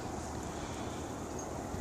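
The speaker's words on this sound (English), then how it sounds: "it keeps getting gusts of wind here and there every so often" Steady rushing wind noise buffets the microphone throughout, a constant broadband roar with no voices.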